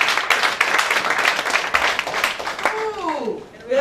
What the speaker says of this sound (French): give God a big hand